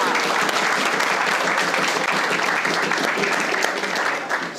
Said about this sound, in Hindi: तो पहले तो पाकिस्तान के लिए तालियां